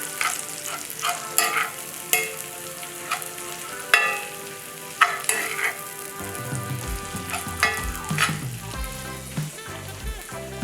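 Suadero taco meat frying in a pan is stirred with repeated sharp scrapes and clacks over a continuous sizzle, with a low steady hum underneath and no talking.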